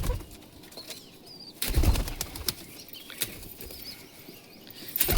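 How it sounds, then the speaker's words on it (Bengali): Pigeons burst into flight from a loft in a series of close, loud wing-flapping flurries, with a few faint calls between the bursts. "আজ আমরা 5টা পায়রা উড়াবো।"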